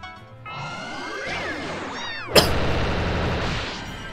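In the Disgaea 4 video game, the Kitty Drill skill plays a rising, sweeping cat-like cry, then a sharp impact burst followed by a dense rattling, drilling barrage of effects.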